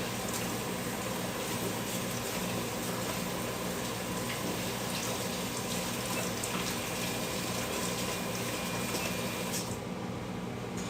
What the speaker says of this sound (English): I am going to wash this whisk off because I need a proper whisk for the flour and sugar mixture